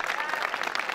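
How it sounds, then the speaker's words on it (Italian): Crowd at a historical festival in an Italian town square applauds musicians and flag-wavers of a historical group, a brief, faint, steady patter of clapping from a distance. "un grande applauso ai musici e agli sbandieratori del gruppo storico di Oglianico"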